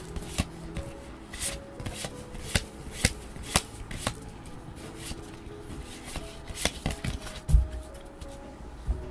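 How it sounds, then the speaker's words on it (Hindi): Tarot cards being handled and shuffled, soft rapid riffling and rubbing with occasional sharper slaps, close and fairly quiet throughout. "मैं कार्ड्स को रखता हूँ यहाँ पे"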